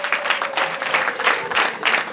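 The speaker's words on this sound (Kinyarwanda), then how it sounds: "amashyi murayasubira" A wedding audience claps again in an uneven, pulsing round, several loud bursts of many hands rising and falling over about two seconds.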